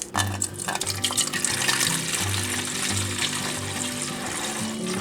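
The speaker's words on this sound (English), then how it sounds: "We need 1 quart of apple juice. So I have a 2-quart container here. We'll pour half of this in." Apple juice pours from a jug into a two-quart container, a continuous liquid gurgle and splash, fairly close and steady, with a slow rhythmic glugging as the flow comes from the jug.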